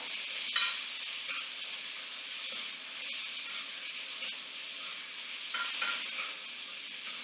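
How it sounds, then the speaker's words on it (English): Moose meat sizzles steadily in a hot pan, a bright crackling hiss punctuated by a few scraping stirs. "I can hear that meat just sizzling. I just want to give it one more little stir here"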